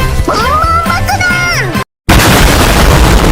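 A loud, abrupt fire explosion in a panic room with a sudden dropout, followed by a dense, roaring rush of noise that fills the rest of the clip.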